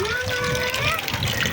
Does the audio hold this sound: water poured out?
yes